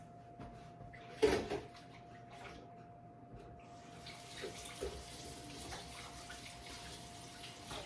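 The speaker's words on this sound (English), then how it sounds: "I'm gonna rinse the spoon off and give it one more taste." In a home kitchen during sweet potato pie baking, a spoon is rinsed under a running tap. A knock comes first, then a steady hiss of flowing water.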